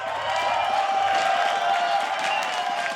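A crowd at an LCS esports match, the 100 Thieves versus Team Liquid upper bracket final, cheers and applauds in a dense, continuous roar.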